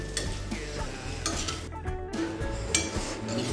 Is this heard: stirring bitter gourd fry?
yes